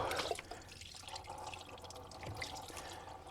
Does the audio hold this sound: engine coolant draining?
yes